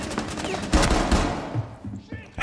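Automatic gunfire bursts from the tactical shooter game Rainbow Six Siege during a hostage round, sharp rapid shots followed by quieter trailing noise.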